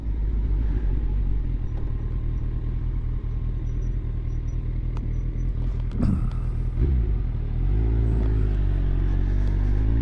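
A motorcycle engine on a highway, heard as a loud, steady, close-up rumble with wind. Around the middle the note dips and shifts as the rider drops a gear, then it settles back into a steady drone.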